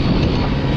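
A Kawasaki Ninja RR motorcycle with a Creampie exhaust makes a noisy gear sound as the throttle is released, a loud dense mechanical rumble that stays steady throughout the short burst.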